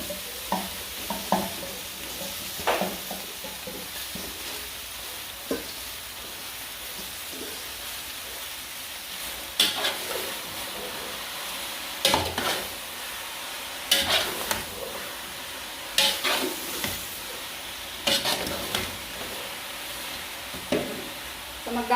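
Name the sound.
vegetables stir-frying with sauce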